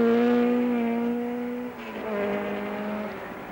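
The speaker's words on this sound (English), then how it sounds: "It's quite a mix-up of cars now as they lap in." 1968 Tasman Series racing cars lap the Warwick Farm circuit, one loud engine roaring past with its pitch sliding down before a second car's engine swells in close behind.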